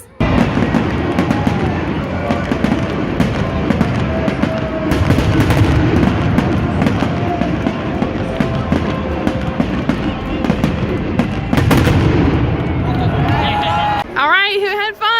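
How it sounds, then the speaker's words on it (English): Fireworks go off at a Diamondbacks baseball game, with rapid loud crackles and bursts one after another over a constant crowd din, then fading near the end as a voice speaks. "We're gonna have some fireworks."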